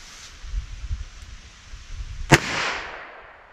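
A single sharp .38 Colt revolver shot cracks out near the end of a velocity test, a loud close report with a brief ringing tail after a stretch of quiet outdoor background.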